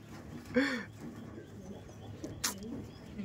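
Madras pigeons cooing in a loft, a soft rising-falling coo near 0.6 s followed by quieter murmurs and a brief sharp noise, against low background hum.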